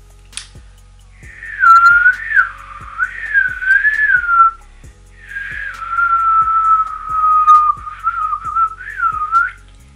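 A person whistles two long, wavering melodic phrases with a short break between them, loud and close, over a steady low ticking pulse.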